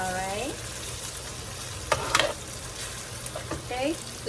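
BBQ pork frying with oyster sauce in a pan, a steady sizzle with a few sharp scraping stirs, while a person speaks briefly at the start and near the end.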